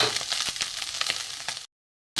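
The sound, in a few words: small fish (chuno mach) frying in oil in a pan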